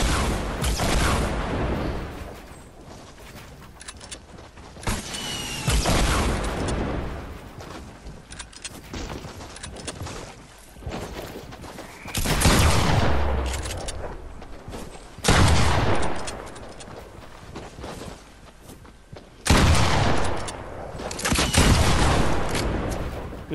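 Bursts of Fortnite gunfire come in loud clustered volleys of rapid shots, separated by quieter stretches of game background, several sustained fusillades across the span.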